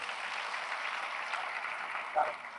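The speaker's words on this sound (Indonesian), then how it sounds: "Tepuk tangan dong sekali lagi buat beliau ini" Audience applause at a stage talk in Indonesia, a steady wash of clapping that holds at moderate distance throughout, with one brief louder spike near the end.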